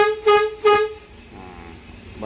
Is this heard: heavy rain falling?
no